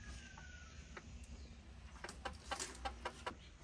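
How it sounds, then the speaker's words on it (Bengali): Hill chickens kept in a pen, a male and a female, give faint, intermittent clucks that cluster toward the end over a steady low background rumble. "অবশেষে আমরা আসছি পাহাড়ি মুরগিগুলার কাছে।"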